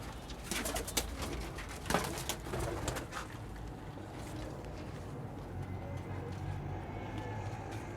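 Pakistani pigeons cooing in a loft amid dense rustling and clatter, with low voices talking nearby and a steady noisy background throughout.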